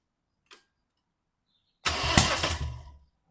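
Toyota engine cranking with the starter during a cylinder compression test on a misfiring engine: after a brief tick and silence, a loud close burst of rapid rhythmic cranking lasts just over a second before stopping.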